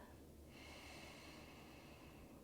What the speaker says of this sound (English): activate our Ujjayi breath, ocean sounding breath, victorious breath